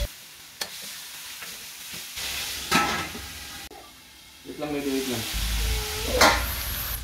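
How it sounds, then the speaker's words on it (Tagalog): Pork ribs seasoned with salt and pepper sizzle in oily fat in a pan while being stirred, a loud continuous hiss with scraping and clattering from the spoon, and no voices. "Yan, nagmamantika na yung pork ribs natin."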